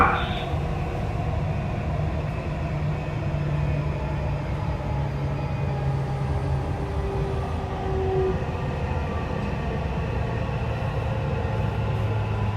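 A Dubai Metro train runs through a tunnel, a loud sustained rumbling roar with whining tonal hums that rise and shift, enclosed and close, continuing without a break and without talk.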